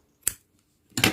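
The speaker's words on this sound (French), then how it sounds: "Maintenant, on va couper une bonne longueur." Two crisp snips of scissors cutting a length of crochet yarn, a short single cut followed after a pause by a louder, longer one, close and alone with no talk.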